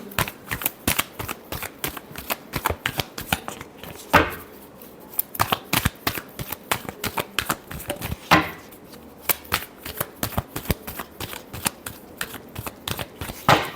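Tarot cards being shuffled by hand, a dense run of crisp riffling clicks broken by two sharper bridge-like snaps, close up and alone without speech.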